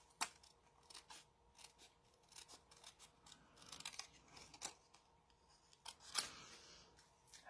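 Scissors cut out a braided card in a craft session: repeated short snipping and rustling strokes, fairly faint and close, with a sharper snip near the end and no talk.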